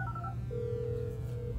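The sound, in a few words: telephone ringing in GTA V video game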